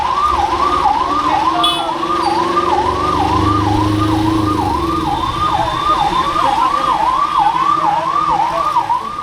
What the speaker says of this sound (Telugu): Ambulance coming ray.